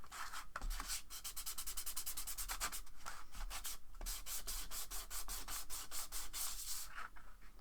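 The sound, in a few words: smoothing out a model base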